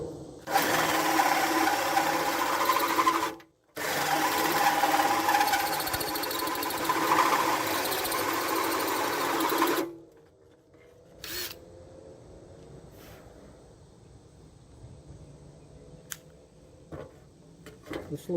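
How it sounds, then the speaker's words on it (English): A drill bit cuts a 2-inch hole through aluminum plate for a solar and shore power mod, a loud steady grinding whir running for about ten seconds with one brief pause, then stopping to quieter handling noises. "The hole's going to be a little bit bigger than a 2 inch because the aluminum has a tendency to wander. This bit wallows it out a little bit."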